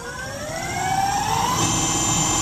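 Electric bike with a QS Motor 3000W hub motor, EM100 controller and 72V lithium battery in third gear accelerating, a rising electric whine with several climbing tones that grows louder and steadier, no talk.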